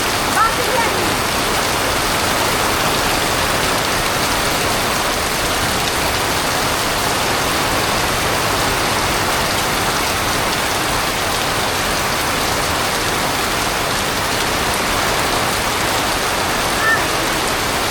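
Steady rain falls without a break in a village setting, a dense, even hiss across the whole stretch, loud and close as it pours down on a rainy day.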